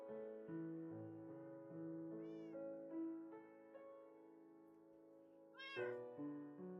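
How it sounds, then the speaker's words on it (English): A cat in the video game Minecraft meows twice, short rising calls standing out over a steady, sustained tonal background. "Yes, Misfit, the cats in this game are hilarious."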